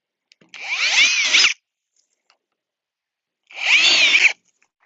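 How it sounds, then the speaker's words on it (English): A power drill whines loudly in two separate bursts, each about a second long, with a short quiet gap between them, drilling holes for 4 mm tubing in a hydroponic system. "So now I'm just going to drill in the holes for the 4 millimeter tubing."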